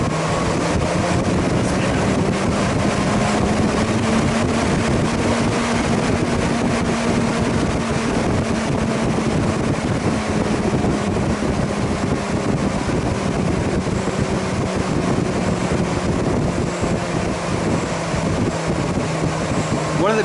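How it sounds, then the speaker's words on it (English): A Motech PWM engine cooling fan running at low idle speed, a steady whooshing airflow drone with a low hum, loud and close, continuous for the whole stretch. "One of the behaviors of these fans is they start off at a higher speed and then wind down to an idle speed."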